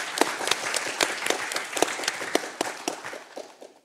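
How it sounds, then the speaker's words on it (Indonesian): An audience applauds steadily, with many hands clapping together in a dense, sustained burst that carries on without talk. "Boleh berikan tepuk tangan yang meriah?"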